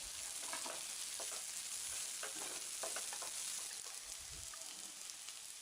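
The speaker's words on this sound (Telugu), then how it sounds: "వీటిని బాగా వేయించుకున్న తర్వాత పచ్చిమిరపకాయ ముక్కలను కూడా వేసుకుని వేయించుకోవాలి." Onion and green chilli pieces fry in a pan with a faint, steady crackling sizzle and occasional stirring scrapes.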